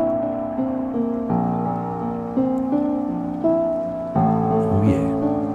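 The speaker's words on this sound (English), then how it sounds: "Let's have some rain." A rain effect from the RetroVibes plugin, a soft patter layered over a dark, droning synth pad whose sustained chords change every second or so.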